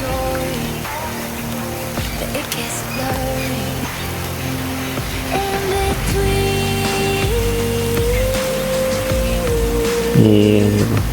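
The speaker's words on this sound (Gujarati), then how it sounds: "વરસાદ ચાલુ થઈ ગયો છે." Rain falls steadily over farm fields in a broad, constant wash that runs the whole time, mixed with a droning tonal hum and no talk.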